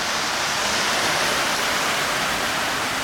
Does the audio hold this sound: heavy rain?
yes